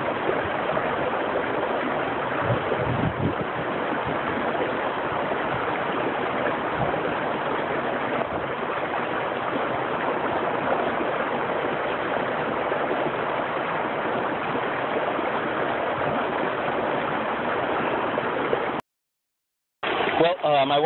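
A river stream flows along the Three Sisters Waterfall hike in San Diego, a steady close rush of water running without a break before a short dropout near the end.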